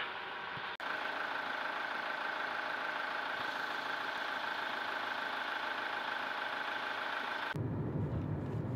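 Diesel engine idling just after an oil change with STP 5W-30 diesel oil: a steady, smooth mid-pitched hum with even vibration, heard close up, ending abruptly into quieter background.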